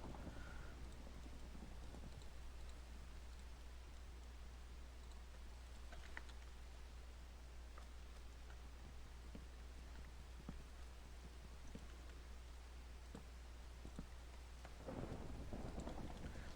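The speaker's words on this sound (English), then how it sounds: "Looks like it's thundering out." Faint thunder rumbling over steady rain and scattered raindrop ticks in the game CraftKingdom, with a low constant hum underneath, a louder swell near the end and nobody speaking.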